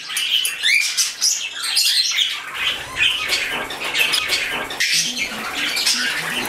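A flock of pet Bourke's parakeets flutters and calls indoors, with bursts of chirps, squawks and wingbeats rising and falling close by.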